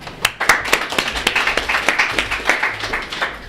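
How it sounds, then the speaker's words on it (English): Audience applause at a company presentation as the next presenter is called up: a dense, steady patter of many hands clapping, moderately loud and continuous throughout with no speech. "Hold your applause."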